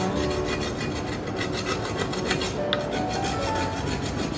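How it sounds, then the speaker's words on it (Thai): A coconut is grated by hand with steady, rhythmic rasping strokes, close and continuous, with no voices over it. "อันดับต่อไปก็ขูดมะพร้าวนะคะ"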